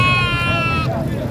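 A two-toothed goat bleats once, long and wavering, at a livestock market in Dera Ghazi Khan, heard close over a steady din of crowd chatter and background noise.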